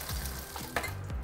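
Chicken wings fry in a pan for cola wings, giving a continuous close, even sizzle with faint scraping as they are turned.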